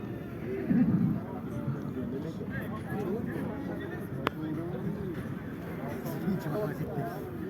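Horses at a livestock market in Karakol, neighing in short whinnies amid a busy crowd, with occasional hoof clops and a steady murmur of people talking throughout.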